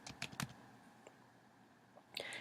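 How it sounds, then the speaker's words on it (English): Quiet typing on a computer keyboard, a few scattered keystroke clicks near the start and a short burst at the end, with near-silence between. "as I was typing in evaluation"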